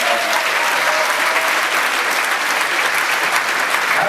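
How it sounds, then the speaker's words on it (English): Steady, loud applause from a large crowd honouring an 85th birthday celebrant, continuous and dense from start to finish with no talk over it. "Please give a round of applause to Mr."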